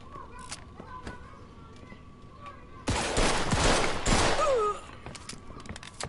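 Several bursts of rapid gunfire ring out in a video game, loud and clustered, over a faint background hum.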